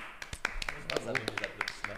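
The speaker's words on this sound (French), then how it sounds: "Je t'applaudis." A few sharp hand claps greeting a podcast guest, quick uneven slaps close to the microphone, mixed with overlapping speech.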